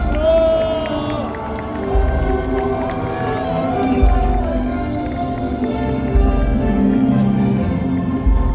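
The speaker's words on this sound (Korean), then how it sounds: "다시 한번 큰 박수 부탁을 드리겠습니다." A crowd at a presidential election rally in the plaza before Seoul City Hall cheers and claps, a loud mass of voices swelling in waves, with an amplified voice speaking over it.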